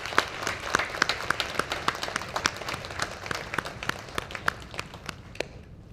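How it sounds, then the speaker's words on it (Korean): A church congregation applauds for the mothers during a Sunday service, a dense patter of many hands clapping steadily that thins and fades out toward the end. "우리 어머니를 위해서 박수로 한번 우리 드리도록 하겠습니다"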